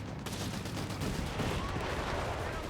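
Dense battlefield gunfire from Panzer IV tanks in the video game Company of Heroes 3, with rapid overlapping shots and machine-gun bursts over a heavy rumbling din that runs continuously throughout.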